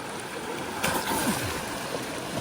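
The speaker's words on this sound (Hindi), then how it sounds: "पानी का बहाव सीधा नीचे ले जा रहा है" Fast-flowing stream water on a mountain route in Uttarakhand, a steady close rushing hiss with a brief splashy swell in the middle, no speech.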